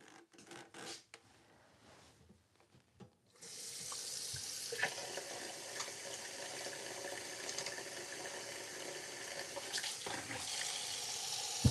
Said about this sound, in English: Gonna put a cup of water in here.